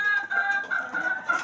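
Hens cluck in a coop, one of them suffering from a liver problem; a short burst of close, steady clucking and soft calls fills the moment with no voices.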